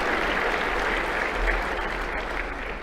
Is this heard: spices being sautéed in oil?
no